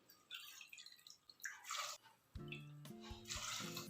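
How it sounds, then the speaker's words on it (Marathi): Water pours from a bowl into a small pressure cooker holding chopped vegetables, with a splashing start, brief pauses and a clinking pour near the end, quiet and close. "भाज्या चांगल्या शिजण्यासाठी या वाटीने तीन वाटी पाणी घालून घेते"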